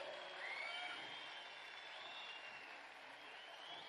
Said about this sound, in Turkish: Pakistan sizden son bir alkış daha istiyor.